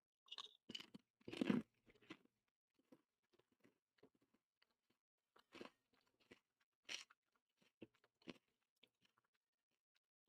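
Someone crunches Old Dutch All Dressed ridged potato chips up close, with loud crisp bites followed by scattered chewing crackles and quiet gaps over about ten seconds.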